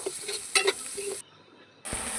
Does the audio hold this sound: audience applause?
no